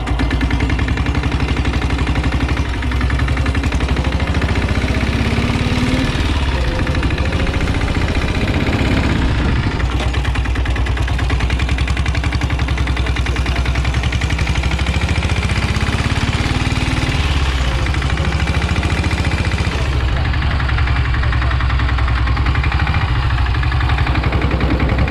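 A rare Royal Enfield Bullet motorcycle with a diesel engine runs steadily nearby, giving a loud, continuous low thudding rumble with slight variations in throttle throughout.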